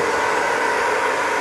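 A hair dryer drying a toupee gives a steady, close, even whoosh of rushing air from start to finish, with no voices.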